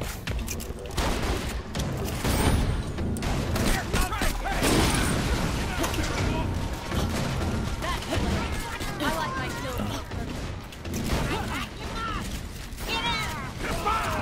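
Sustained video game gunfire in a chaotic firefight, continuous overlapping shots and mechanical clatter under steady excited talking throughout.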